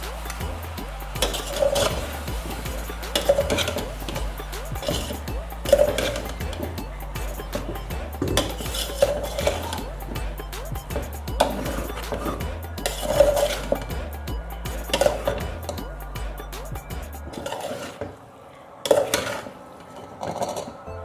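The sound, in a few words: stirring macaroni with chicken and vegetables in a pan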